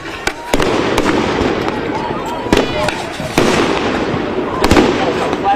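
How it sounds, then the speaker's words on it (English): Loud, sharp flashbang grenade blasts go off one after another, punching through a continuous crowd din at a campus protest being cleared by police. A few bangs are close, others farther away. "Flashbangs, it's being fired over."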